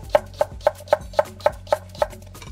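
Eight sharp knife chops slicing a carrot into half-rings on a cutting board, evenly spaced at a steady brisk rhythm, close and clear with no talking.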